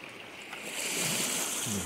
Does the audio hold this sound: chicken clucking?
no